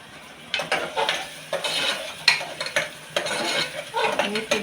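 Fenugreek-leaf curry being tempered in a pan on a stove, with a steady low sizzle under repeated metallic scrapes and clinks of a spoon stirring against the pan.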